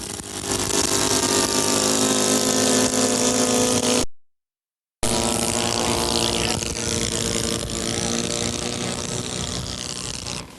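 An OS 1.64 four-stroke engine drives a 16.5-pound Rose Parakeet model airplane, a loud steady buzzing drone that cuts out briefly and resumes.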